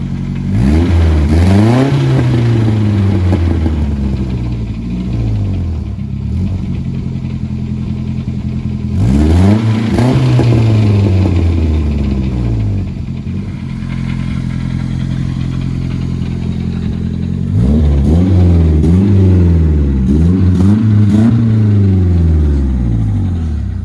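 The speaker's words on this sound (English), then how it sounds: "It has a big hole in the exhaust, so it sounds loud and just bad." A Mercedes-Benz 190E engine revs up and down in three long surges, loud and rough with a raspy, blatting note from a big hole in the exhaust, dropping to idle between pulls.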